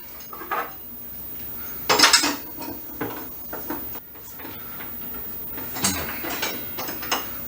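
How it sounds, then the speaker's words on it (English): Metal clanks and rattles as the riving knife and 10-inch blade come off a woodworking table saw, with several sharp scattered clinks, a ratcheting, and one louder burst of metal-on-metal handling close by, with no talking. "Now I'm going to remove my riving knife and remove the 10-inch blade."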